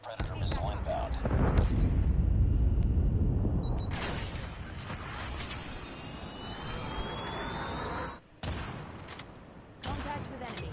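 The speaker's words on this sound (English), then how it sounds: "Be advised, hostile predator missile inbound." A predator missile explodes in the video game Call of Duty, a loud booming blast with a rumbling roar that fades over several seconds. Battlefield noise follows, and game voices speak throughout.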